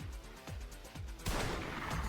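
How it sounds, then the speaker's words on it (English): A single sharp gunshot from an anime scene in Blue Exorcist cracks out loudly after a stretch of quieter background sound, with a ringing, roaring tail that fills the rest of the moment. "Was a gunshot necessary?"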